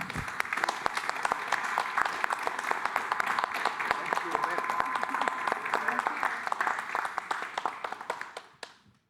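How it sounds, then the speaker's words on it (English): A conference audience at a panel on sustainability disclosure breaks into steady, dense applause that carries on for several seconds before tapering off quickly at the end. "I really think that you deserve a round of applause."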